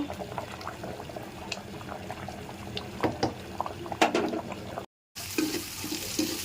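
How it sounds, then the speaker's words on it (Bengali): Khichuri cooks in a pressure cooker with a low bubbling and simmering, broken by close clatters and knocks of utensils. A brief dropout cuts the sound before the bubbling returns. "কুকারে খিচুড়িটা বসাই দিলাম"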